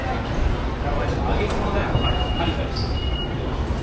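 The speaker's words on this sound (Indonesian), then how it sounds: "Dan saya berada di kereta di bawah ini." Steady rumble and rattle of an underground train in motion in Japan, with a dense, continuous roar and faint background chatter of commuters.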